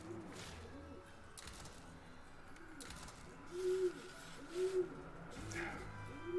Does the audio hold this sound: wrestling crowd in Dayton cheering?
no